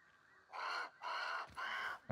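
In the Grounded video game, a bird caws three times in a row, harsh evenly spaced calls that stand out clearly with no talking over them.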